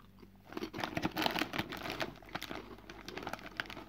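Close, crisp crunching of someone chewing a crispy duck snack, with irregular bites and snaps throughout and no talking.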